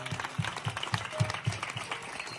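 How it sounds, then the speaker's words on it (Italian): An audience at an award ceremony applauds, with distinct, fairly close hand claps in a loose rhythm over a softer bed of crowd clapping, moderately quiet and short. "questo applauso va a lui"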